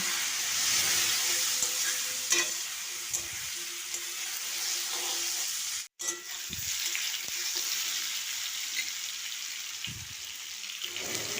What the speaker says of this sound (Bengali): আলুগুলোকে নুন হলুদ দিয়ে ভেজে নেবো